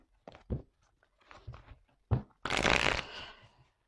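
A tarot card is set down on a table during a reading: a few soft taps and slides, then a longer brushing shuffle of cards, close and quiet.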